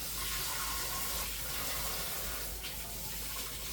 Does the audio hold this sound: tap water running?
yes